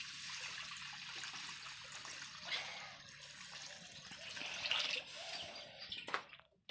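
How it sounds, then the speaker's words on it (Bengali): A little water is poured into a cooking pot for broken rice, giving a steady, close trickling and splashing that swells slightly near the end. "খুদ রান্নার করার জন্য অল্প জল দিয়ে দিব।"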